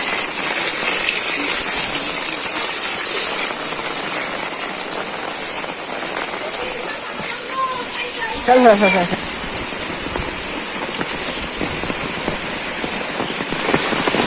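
Heavy rain pours down steadily in a dense, loud roar, with a short burst of speech partway through.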